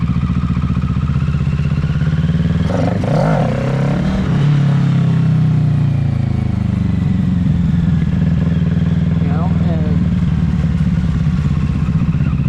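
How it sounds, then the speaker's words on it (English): A 2020 Kawasaki Ninja 650 motorcycle with a 650cc engine runs loud and close, a steady rumble with brief revving swells and some clatter, while someone speaks briefly. "yeah, it's a 650cc engine"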